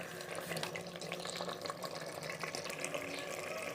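Water pours steadily into a pot of beef biryani masala with browned meat and fresh coriander, a continuous close splashing trickle with no talk.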